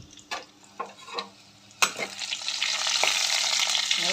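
Red chillies drop into a tablespoon of hot oil for a South Indian chutney, a few soft clicks before a sudden burst of close, loud sizzling that settles into a steady crackling fry.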